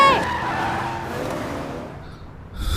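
A car driven hard skids with a sharp tire squeal that trails off over a couple of seconds, followed by a short burst of road noise near the end.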